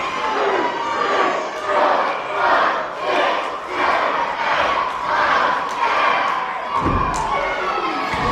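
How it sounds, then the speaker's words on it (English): A wrestling crowd roars loudly during a tag-team match, rising and falling in rhythmic waves of chanting and shouting, with a heavy thud near the end. "And now the crowd continuing their crazy noise"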